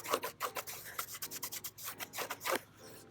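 Fingers rub the felt-like side of a black Bruno Marc suede shoe close up, making quiet, rapid, scratchy strokes that repeat unevenly for about three seconds.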